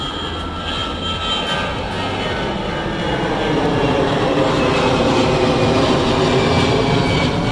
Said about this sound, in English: I didn't realize we were A, so close to an airport, and B, how long it's been since we've seen a freaking airplane.